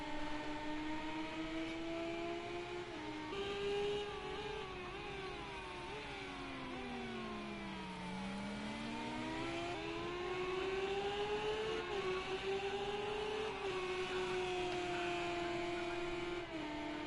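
A race car engine in the Project Cars video game at Laguna Seca revs up and down through gear changes, its whine rising and dipping continuously and heard alone at moderate loudness.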